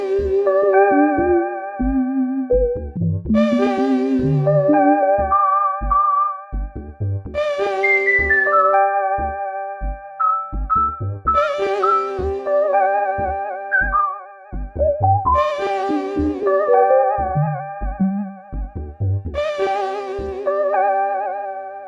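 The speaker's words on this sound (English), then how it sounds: "with the Julianna, it's really easy to get classic chorus and vibrato sounds, and really everything in between." Synthesizers from an Elektron Digitone and a Roland SH-101 play through a Walrus Audio Julianna chorus/vibrato pedal, giving sustained chords and arpeggiated notes a warbling, wavering shimmer that runs steadily and loud with no talk.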